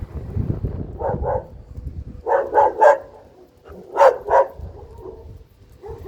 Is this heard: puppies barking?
yes